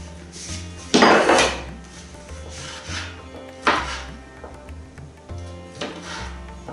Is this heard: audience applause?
no